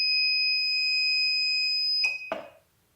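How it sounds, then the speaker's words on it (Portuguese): An Ouzer wireless fire alarm system sounds a common alarm: a loud, steady electronic tone holds for about two seconds, then cuts off with a couple of sharp clicks and a brief decaying thud into silence. "Alarme comum acionado."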